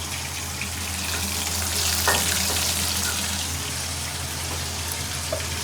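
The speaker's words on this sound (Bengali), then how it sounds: "ওটা ভেজে নিচ্ছি" Food fries in a pan in a home kitchen, a loud, continuous sizzle and hiss with a brief stirring scrape partway through and no talking.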